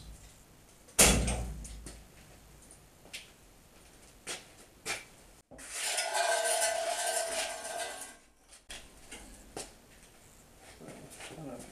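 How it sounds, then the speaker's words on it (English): The side door of a homemade sandblasting cabinet is opened; it is a full-side panel with latches. A sharp clunk comes first, then a few light knocks and a longer scraping, rushing noise as the panel swings open. "The whole side is a door, so this whole thing will open up."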